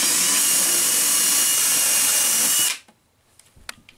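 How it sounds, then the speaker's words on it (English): Power drill boring a pilot hole into a bathroom cabinet, a loud steady whine that runs for a few seconds then cuts off sharply, followed by faint clicks and handling noises. "So I'm going to drill a new hole right there."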